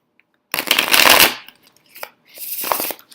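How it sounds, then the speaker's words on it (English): A tarot deck shuffled close by: a loud, dense riffle lasting under a second, then a brief pause and a second, softer stretch of card rustling and tapping, with no voices. "tend to just enjoy shuffling a lot"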